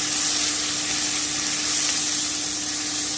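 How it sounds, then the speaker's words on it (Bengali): Squash and potato pieces fry in hot oil in a pan with dried red chilli, making a loud, dense, continuous sizzle and hiss that holds steady throughout, with no talking. "এবারে আমি কোয়াশার আলুটা দিয়ে দিচ্ছি ভালো করে একটু নেড়ে নিচ্ছি"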